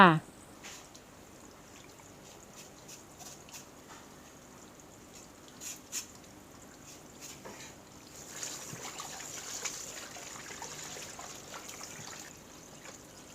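Pork skin is rinsed under running water, with faint trickling and splashing water and occasional soft handling noises, quiet throughout.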